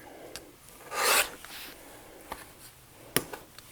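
Scissors trimming the seam of felted wool fabric, a short rasping snip followed by a few faint crisp cuts, close and quiet with no talk.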